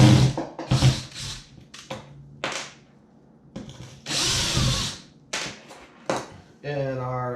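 A power drill whirs to back stainless steel screws out of a seat on a foam and fabric kayak or pirogue, with short bursts between stretches of someone talking and a longer rising whine near the end.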